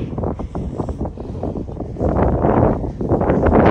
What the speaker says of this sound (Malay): Angin ni yang rasa macam nak beku ni